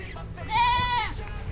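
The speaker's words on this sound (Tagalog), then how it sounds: "So ito yung ating mga kambing." A goat on a farm lets out one close, wavering bleat that rises and fades over about a second, with faint background noise and no talking.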